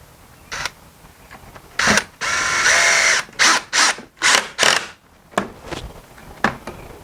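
Screws driven into a plastic Costco Adirondack chair during assembly, with a series of short, close whirring bursts of a power driver separated by brief pauses, and one longer run near the start.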